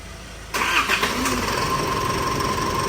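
An engine cranks and starts, then settles into a steady, even idle hum.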